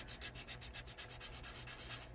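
A small wooden part of a 1:12 scale dollhouse microwave kit is sanded by hand in quick, even back-and-forth rubbing strokes, close and steady throughout.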